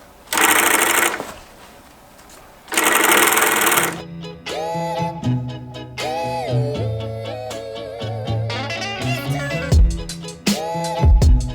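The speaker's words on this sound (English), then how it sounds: "So it does a chain stitch hem." An industrial chain stitch sewing machine hems raw denim jeans, running in loud continuous bursts alone, broken by a pause, then quieter mechanical handling and shop sounds with tonal whirring and clicks.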